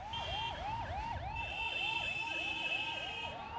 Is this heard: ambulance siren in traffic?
yes